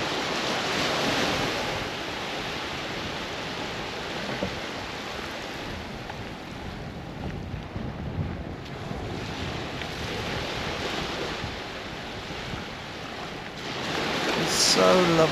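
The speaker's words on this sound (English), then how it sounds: "All you can hear is the sound of the sea rolling over the sand." Continuous wash of surf rolling over sand on the coast of Jersey between St. Aubin and the Grand Hotel, broad and steady with gentle swells and some wind rumble.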